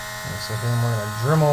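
A Dremel rotary tool whirs in a steady, high-pitched grind for about a second and a half, close and fairly loud, with its tone rising slightly toward the end.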